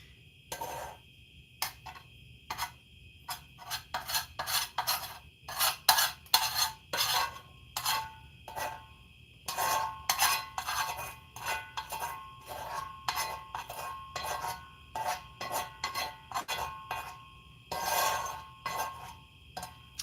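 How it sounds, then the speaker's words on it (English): A utensil scrapes and clatters in a pan, producing dense, rapid metallic scratches and clinks that come in bursts with short pauses, fairly close and steady over a low background hum. "Excuse the scraping of the pan."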